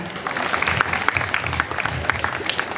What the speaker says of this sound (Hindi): हम हमारे अतिथि के लिए जोरदार तालियां बजा दें